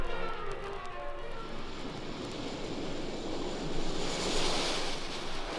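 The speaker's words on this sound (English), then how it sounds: "Soon, Wonder Woman in her invisible plane is racing at incredible speed to her rendezvous with Doomsday on a remote island in the mid-Pacific" An airplane roars steadily over open ocean in an old radio-style audio drama, a continuous broadband engine drone mixed with wind and surf that swells slightly toward the end, with no voices.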